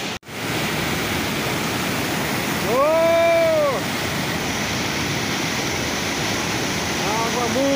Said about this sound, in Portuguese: Açude sangrando no nosso Ceará.